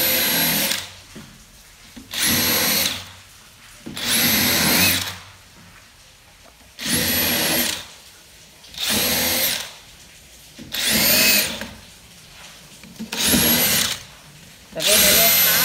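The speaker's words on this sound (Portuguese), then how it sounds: "Ela é rápida de furar." A DeWalt power drill runs in repeated bursts of roughly one to two seconds each, about seven in all, with short quiet gaps between; loud and close, with a high whine.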